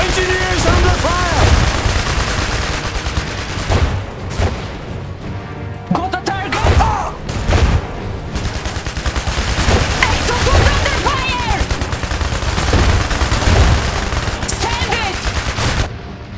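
Heavy gunfire in the dieselpunk strategy video game Iron Harvest during a 3v3 battle, with dense machine-gun fusillades and booming impacts throughout, loud and continuous, with unit voice lines over it.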